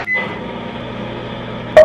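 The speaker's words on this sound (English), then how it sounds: "I'm gonna heat this up in the microwave for like, I don't know, 20 seconds" A microwave oven heats a granola mixture with a steady, loud electrical hum that runs unbroken until a single short beep sounds at the end.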